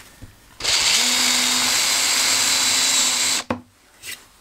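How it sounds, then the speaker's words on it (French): A power drill fitted with a Tormek-sharpened twist bit whirs up to speed and bores steadily for nearly three seconds at close range, then stops abruptly, followed by a few light clicks and handling knocks. "Ça perce vite, hein. Et ça perce droit surtout."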